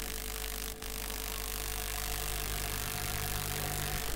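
A 220 V commutator motor turns slowly under a speed controller, giving a steady close electric hum with constant tonal lines and a single brief click early on.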